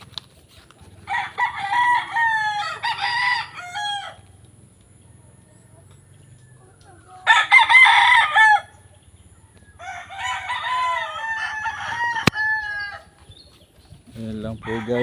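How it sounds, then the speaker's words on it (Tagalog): Chickens and roosters on a Filipino family's farm crow and cluck in loud bursts, several clear crows ringing out close by with a faint low hum beneath them. "mga manok. Ayan guys."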